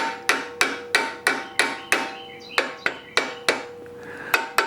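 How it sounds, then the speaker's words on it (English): A hammer taps a bushing into a leaf spring on a 1976 Jeep CJ-5 under frame restoration. Eleven sharp, close metallic strikes come at a fairly even pace, each with a short ringing decay, and no talking. "What I did on the other one was gave it a few taps."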